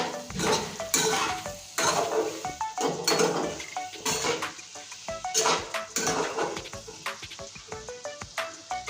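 A metal spoon scrapes and clanks around a pot as pea dal with potatoes and grated coconut is stirred, giving repeated close, rhythmic knocks and scrapes over a faint sizzle.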